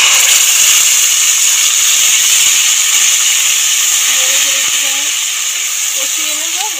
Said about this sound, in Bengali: এবার দিয়ে দেবো মিক্সিতে বাটা মশলা, মৌরি, আদা আর কাঁচা লঙ্কা।